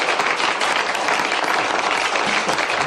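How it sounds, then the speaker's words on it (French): A dense, loud wash of applause from an audience, sustained without break. Many hands clap together in a full, close crowd texture. "Je vous demande de l'applaudir, David Goodman."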